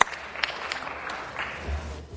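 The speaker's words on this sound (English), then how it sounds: "let's hear a decent round of applause for Barack Obama in the city of Los Angeles" A city council meeting audience in Los Angeles gives a brief round of applause for Barack Obama, with scattered, uneven claps and some background murmur over a low hum.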